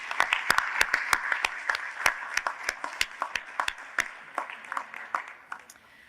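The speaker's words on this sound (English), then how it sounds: "can we get a round of applause for Trevor" Conference audience in New South Wales applauds a young water professional, dense clapping from a crowd with crisp nearby claps, gradually thinning toward the end.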